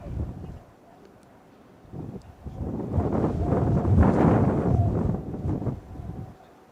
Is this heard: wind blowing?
yes